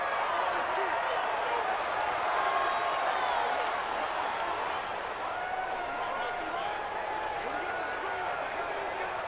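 A Madden NFL stadium crowd roars steadily through a big third down between the Colts and Titans, a sustained cheering wash under continuous play-by-play commentary.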